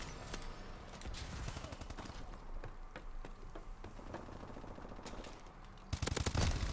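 Rapid assault rifle fire in the video game Call of Duty: Advanced Warfare, a continuous rattle of shots throughout with a louder burst at the end.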